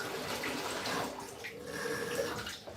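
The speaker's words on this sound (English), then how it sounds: "I'm going to add some water." Water pours steadily into a pot as the base for banku, a soft, continuous splashing trickle heard nearby, with no voices over it.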